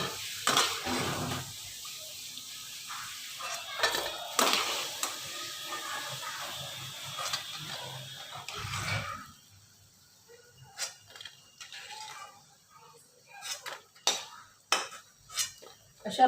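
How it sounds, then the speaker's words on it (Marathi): Pakoras frying in hot oil with a steady bright sizzle while a metal slotted spoon stirs and clinks against the pan, then the hiss drops away to scattered sharp taps and scrapes as they are lifted out onto a plate. "अशा प्रकारे आपण सर्व पकोडे तळून घेऊया."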